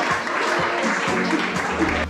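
Crowd applause for the national champions at the Argonavtski maraton 2022 race, a steady dense patter of clapping lasting about two seconds, with some low thumps and a faint voice underneath.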